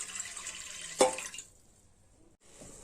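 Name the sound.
water poured into a pressure cooker for boiling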